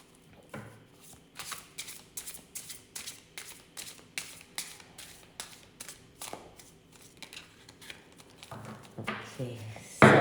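Tarot cards are shuffled again and again close up, a run of crisp riffling bursts at an even rhythm, with a louder tap at the very end.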